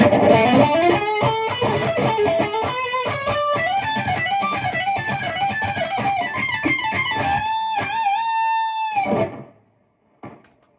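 A distorted electric guitar plays a fast solo of bent, sustained notes through a spring reverb, leaving a washy reverb tail, ending on a held note before cutting off.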